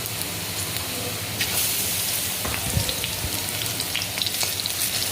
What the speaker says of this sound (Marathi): तेल तापत ठेवलेलं आहे आणि बेसनमध्ये बुडवून मिरच्या मी तळत ठेवलं